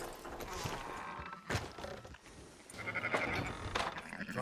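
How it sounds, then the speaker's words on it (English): Sheep bleat in Red Dead Redemption 2, several wavering calls mixed with clunks and background game ambience, moderately close. "Fine sheep."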